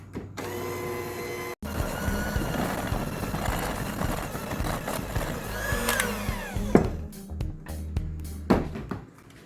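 An electric mixer whirs through peanut butter bar dough with flour and salt, a continuous motor hum with shifting pitch and scraping, stopping briefly early on and ending in a few clunks and knocks.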